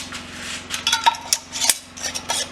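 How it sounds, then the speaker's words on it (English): Metal lids clink and scrape as they are put on and hand-tightened onto glass canning jars of tomatoes, a series of sharp close taps and rattles over a faint steady hum. "We're going to put the lids on and put them in the canner."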